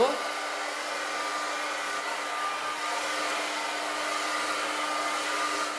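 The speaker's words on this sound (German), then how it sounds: "mal wieder am Haare föhnen" A hair dryer blows steadily and close, a constant whooshing roar with a faint whine that holds level throughout, with no voices over it.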